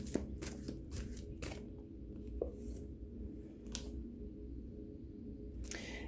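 Tarot cards are shuffled by hand at close range in a quiet room, with soft riffling and snapping bursts between pauses.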